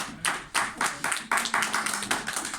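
A church congregation claps in bursts, a quick uneven run of hand claps with a faint voice or tone underneath, close and moderately loud.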